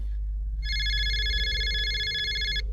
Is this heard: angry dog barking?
no